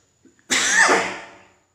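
A single close cough bursts out from someone speaking while fasting, loud at first and trailing off over about a second, with a couple of faint throat sounds just before it.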